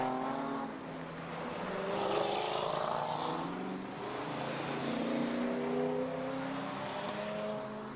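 A Holden Torana rally car runs through a corner on a special stage, its engine a loud, sustained roar that swells and eases as it drives past at moderate distance, with no talk.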